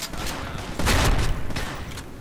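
A weapon in the S.K.I.L.L. shooter game fires in rapid bursts, loud and close, with a denser volley in the middle before it tapers into scattered shots.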